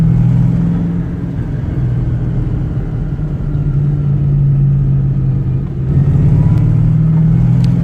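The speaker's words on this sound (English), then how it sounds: "The sound of this car is so amazing that people are turning their heads." A deep, rumbling V8 engine of an Iso Rivolta Lele sports car idles and revs nearby, its throaty drone dipping briefly then swelling louder again toward the end.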